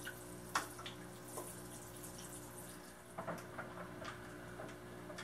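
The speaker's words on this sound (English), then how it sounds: "So I'm gonna give this a good watering" Water pours from a can or tap onto the soil of a potted ninebark bonsai, a steady splashing wash with a few soft drips and taps scattered through it, close by and fairly quiet.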